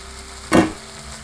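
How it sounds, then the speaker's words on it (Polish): A single short burst of pan sizzling from food frying in the Cooking Simulator video game, rising sharply and fading within about half a second against a quiet background. "Przestaniesz skwierczeć, bo tu się nic nie gotuje."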